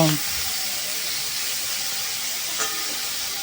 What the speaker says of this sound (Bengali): এখন আমি দুটো আলু এভাবে কুচি কুচি করে কেটে নিয়েছি সেই আলুগুলো ভেজে নেব